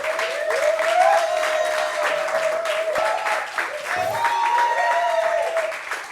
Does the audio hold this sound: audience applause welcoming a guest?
yes